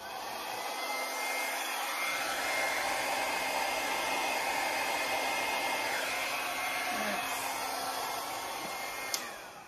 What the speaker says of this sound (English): I am going to get the blow dryer real quick.